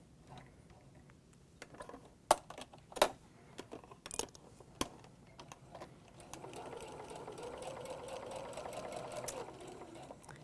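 A sewing machine runs steadily for several seconds, stitching fabric along a marked line for a flying geese quilt unit, after scattered clicks and taps of handling the fabric and threads.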